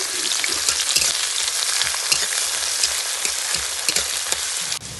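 Onions and spices frying in a pan for rui rezala fish curry, a loud, close, dense sizzle with crackling pops and occasional stirring taps, continuous throughout.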